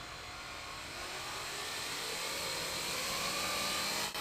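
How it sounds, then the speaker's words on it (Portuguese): A small drone flying on conventional propellers gives a steady, smooth broadband whir with a faint tonal hum, holding even and fairly loud throughout the short stretch before a slight drop at the end. "Última tentativa com hélices convencionais. Nossa, está soando tão suave."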